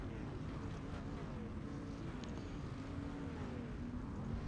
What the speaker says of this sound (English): You hear the roar of the motors.